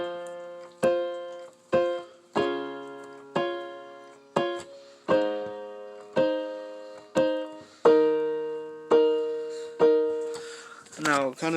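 Piano playing: steady struck chords and notes, each ringing and decaying before the next, in a slow even rhythm, with a brief noisy rustle at the end.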